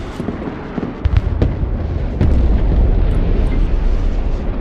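Bomber attack in the Broken Arrow war game, a dense, continuous barrage of booming explosions and crackling bursts, loud and close, building heavier partway through with no talk over it.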